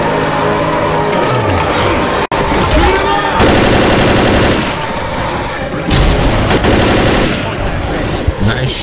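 Dense automatic gunfire from the Left 4 Dead video game, loud bursts of rapid shots running almost continuously with chaotic game noise and a sharp break midway.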